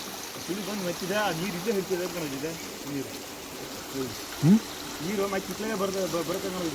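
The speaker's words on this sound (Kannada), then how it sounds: "ಒಳಗೆ ಹರಿತೈತಿ ನೀರು," Village stream water swirls through a whirlpool and flows underneath, heard as a low steady rush beneath voices talking nearby during a crab hunt.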